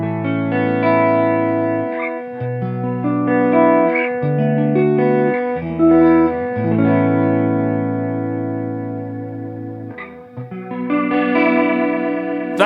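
Fender Hammertone Chorus guitar pedal swirling a sustained electric guitar chord progression with a wide, wavering chorus shimmer, loud and steady, with no talking over it.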